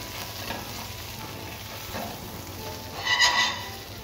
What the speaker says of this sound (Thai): เราจะใส่เห็ดแชมปิญองตามลงไปเลยนะฮะ แล้วเราก็ผัดให้ทั่วนะครับ